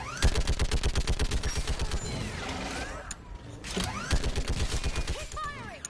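Rapid bursts of automatic gunfire from the Mass Effect 3 video game, loud and close, with a brief lull in the middle before sustained firing resumes, mixed with mechanical clanks and game effects.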